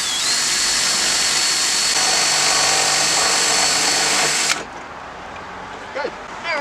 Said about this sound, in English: Drill a hole there.